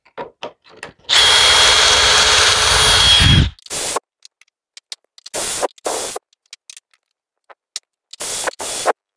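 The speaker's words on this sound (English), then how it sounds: "Pocket hole drilling time." A power drill whirs steadily for about two seconds while drilling pocket holes in wood, followed by a series of short, sharp drilling bursts and clicks with gaps between them.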